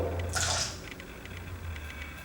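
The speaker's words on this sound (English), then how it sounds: "Then just pour a little bit of olive brine." Olive brine is poured into a martini in a short wet splash, followed by a few faint drips, quiet and close, with no talk.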